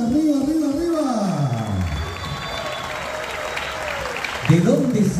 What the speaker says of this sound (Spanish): ¿Dónde están los aplausos fuertes, Federación?